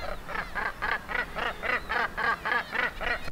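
Seabirds calling at the Bempton Cliffs breeding colony, where puffins, guillemots, razorbills, kittiwakes, fulmars and gannets nest. A rhythmic series of about ten harsh, regular calls repeats at a steady pace, moderately close, with no voices.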